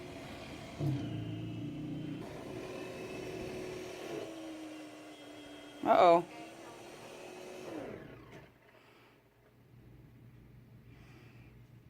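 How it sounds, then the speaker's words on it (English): A snowblower clogged with snow drones steadily, then a loud harsh choking burst cuts through before the engine sags and dies away into quiet; a voice briefly exclaims. "Oh, don't tell me the snowblower's broken."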